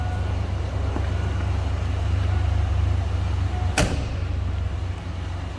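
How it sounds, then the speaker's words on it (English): A 1987 Ford F-150 XLT Lariat 4x4 pickup door shuts once with a solid thud, standing out over a steady low engine idle. "Door closes nice."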